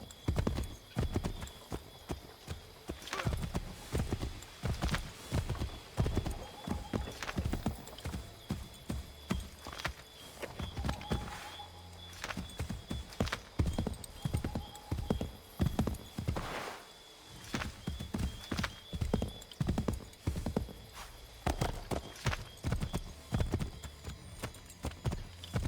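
Horse hooves clip-clopping in the video game Assassin's Creed III, a steady, fairly close trotting rhythm of distinct hoof strikes running through the whole stretch, with faint game ambience behind and little talk.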